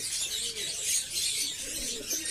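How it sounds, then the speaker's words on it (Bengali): A Lalmohan-type pigeon coos softly in low, rolling murmurs beneath a constant loud airy hiss of background noise. "পায়রা দেখতে ভালো, লালমোহন টাইপের পায়রাটা।"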